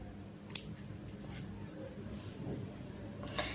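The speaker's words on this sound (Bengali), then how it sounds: "এই যে কাটারের সাহায্যে কেটে দিচ্ছি।" A cutter snips embroidery thread, a small crisp cut near the start and another near the end over a quiet room background.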